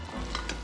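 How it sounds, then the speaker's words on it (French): Onions softening in a pan give a brief, steady sizzle with faint stirring scrapes, close and alone without talk. "d'abord on va faire amollir un peu les oignons"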